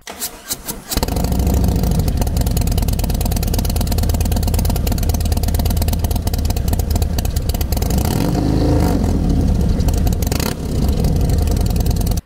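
A Harley-Davidson 25th anniversary CVO Street Glide with stage one tune and Vance and Hines two-into-one stainless exhaust fires up and idles loudly, a deep, lumpy rumble with a brief blip partway through.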